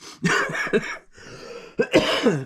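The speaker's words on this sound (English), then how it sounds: "I still have a little bit of cough." Several harsh, chesty coughs close to the microphone, in two short clusters separated by a pause of heavy breathing.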